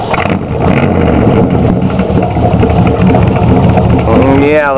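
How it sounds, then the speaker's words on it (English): A 1947 Ford engine idles and revs through a glass pack muffler with an exhaust leak, giving a loud, steady, close rumbling drone that swells slightly over a few seconds, with voices faintly beneath. "I can still hear the glass pack, but it's not leaking as much exhaust."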